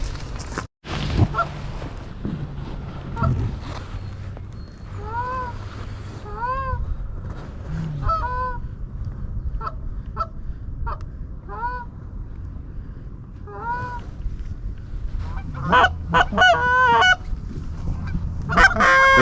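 Canada geese honk repeatedly during a Pennsylvania goose hunt, a few clear calls early, then a dense burst of several birds near the end, over steady outdoor background noise.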